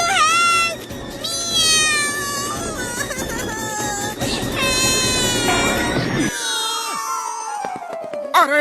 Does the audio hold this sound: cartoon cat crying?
yes